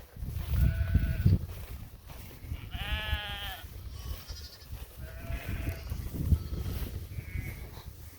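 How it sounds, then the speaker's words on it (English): A flock of sheep with many young lambs in a green grassy field bleats repeatedly, with wavering calls overlapping at varied distances over a steady outdoor background. "There is a ton of sheep out here, a ton of babies."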